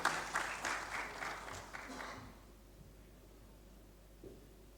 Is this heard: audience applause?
yes